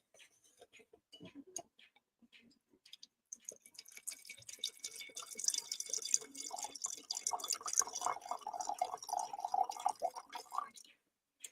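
Red wine is poured from a freshly opened bottle into a glass, a soft liquid trickle building into a steadier gurgling stream, with people speaking quietly nearby.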